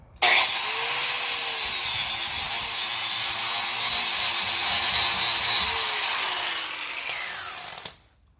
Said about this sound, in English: Got my grinder with the sanding disc on it. It's looks like a 60 grit.